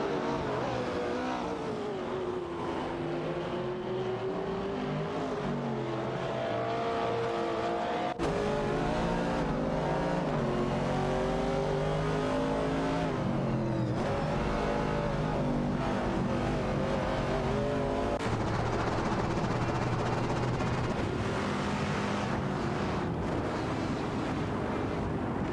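Racing cars in a video game, including a Holden Torana A9X and a Ford Capri RS 3100, with engines revving and droning continuously, shifting pitch through gear changes and overlapping cars, loud and sustained.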